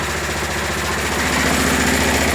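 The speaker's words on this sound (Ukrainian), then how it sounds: "Але перед тим як буде е, прогріватися трактор" A heavy walk-behind tractor engine idles as it warms up in snowy weather, a loud, close, steady rhythmic chugging and throbbing with no talking.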